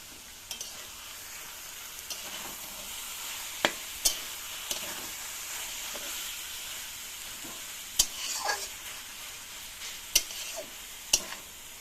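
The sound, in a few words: prawns stirred and sizzling with taro stems in a pan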